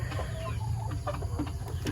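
Free-range village chickens clucking in their coop after five days alone, a busy mix of short clucks and calls over steady low background noise.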